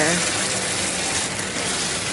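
Liquid pours into a hot pan, setting off a loud, steady sizzle and hiss that fills the whole moment.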